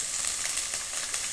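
Garlic, green chili and onion fry in hot oil as a tempering, a dense, even sizzle that holds steady throughout at close range.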